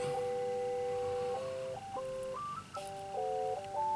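Phone ringing in a room, a repeating electronic melody of stepped tones in short phrases, heard alone at a modest distance.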